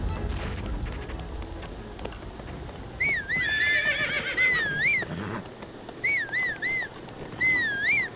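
A horse in the game Breath of the Wild whinnies loudly in two separate bursts, its rising and falling neighs close and clear over a soft, steady background of game ambience.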